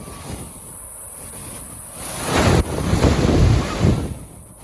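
Warm sea waves at a beach wash in and break, a rising swell of rushing surf with wind buffeting the microphone, loud and close, no one speaking.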